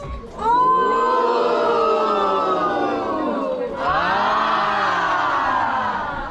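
A crowd roars and whoops in unison with sustained voices, loud and close and rising after a short pause, at a roadside attraction's board-of-mystery presentation at the Santa Cruz Mystery Spot.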